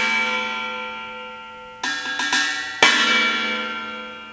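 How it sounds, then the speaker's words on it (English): A Meinl 12-inch China cymbal, held by hand and struck several times, gives a bright, ringing, gong-like wash that decays slowly, with a few quick hits and then one stronger crash, close and clear. "This is a Meinl 12-inch China."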